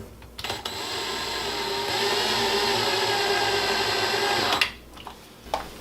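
Cordless power driver sets a screw into a heavy-duty full-extension pantry pull-out drawer slide, one steady whirring run of about four seconds at close range, ending with a few faint clicks and handling knocks.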